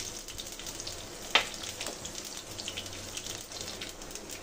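Mustard seeds splutter and sizzle in hot oil, a faint continuous crackle with scattered small pops and one sharper snap early on.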